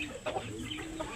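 Serama bantam chicken giving soft, quiet clucks, a few short murmuring calls over low background noise.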